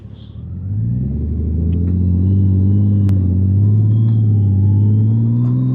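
A nearby Honda Gold Wing motorcycle engine rumbles and revs up, its pitch climbing through upshifts in a smooth, building acceleration.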